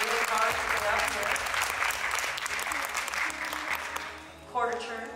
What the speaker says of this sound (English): So if you would give them a big round of applause